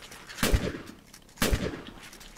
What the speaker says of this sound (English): Oh, I love the shotgun so much.